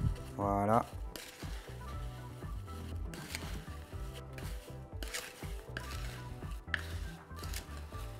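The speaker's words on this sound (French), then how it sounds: "On mélange bien." Apple compote with brown sugar, cinnamon and lemon juice being stirred in a pot, soft scraping and clinking strokes at a steady pace with a brief word spoken at the start.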